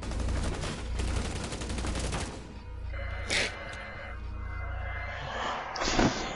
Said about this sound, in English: It's an LMG.